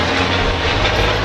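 Outdoors in Sydney, an airplane passes overhead as a loud, broad, continuous engine roar that fills the whole brief moment, with no talking.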